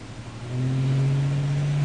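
A 1986 Buick Regal T-Type and a 1987 Corvette 350 automatic launch side by side at a drag strip, a steady loud engine drone that swells after half a second and holds under full throttle.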